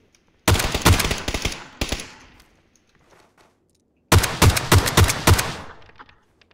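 Two loud, close bursts of rapid automatic gunfire in PUBG on the snowy Vikendi map, each lasting over a second with fading echoes, separated by a quiet gap.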